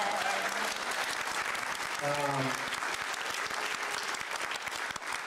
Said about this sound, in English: round of applause again for letting us do this